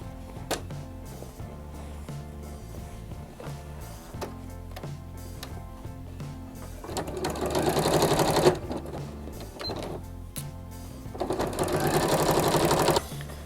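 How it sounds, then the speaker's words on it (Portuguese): A sewing machine stitches around a fabric patchwork bag, running in steady mechanical bursts that swell louder in two long stretches with brief pauses between, heard on its own. "Agora é só levar na máquina e costurar em toda a volta."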